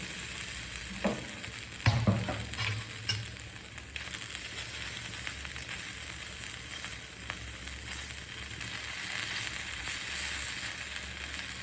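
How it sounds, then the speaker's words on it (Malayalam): Boiled, mashed potato sautéed in oil in a pan sizzles steadily and close, with a few scraping stirs and clatters near the start, then an even frying hiss for the rest. "ഞാൻ പൊട്ടറ്റോ പൊടിഞ്ഞ് വേവിച്ചതാണ്. അത് ജസ്റ്റ് ചുമ്മാ എണ്ണയിലൊന്ന് വഴറ്റിയെടുക്കുകയാണ്."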